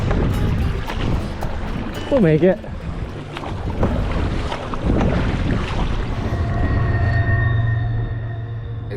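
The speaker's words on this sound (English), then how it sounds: "Okay, we're gonna launch across the river now." A boat sets off across the Fraser River with a steady engine drone and heavy wind buffeting the microphone, and a voice speaks briefly partway through.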